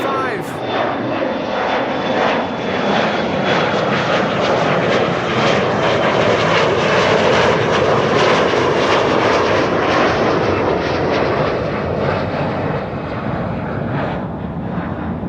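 Embraer 175 jet airliner at Amsterdam Schiphol Airport, a loud sustained engine roar that holds steady for the whole stretch, broad and continuous like a close takeoff or taxi.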